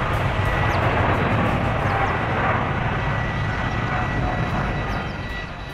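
Boeing 747-8 airliner touching down, a wide, continuous engine roar that holds steady and then fades slightly toward the end, with no voices over it.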